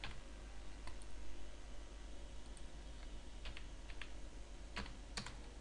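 Computer keyboard keys clatter in quick, uneven bursts as a Gmail ID is typed in, light clicks over a steady low background hum, no voices present.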